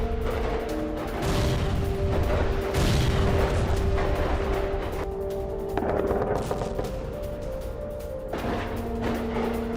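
An RPG attack by Hamas fighters on Israeli forces, heard as a dense, loud wash of gunfire and booming blasts, continuous and roaring throughout with no talk over it.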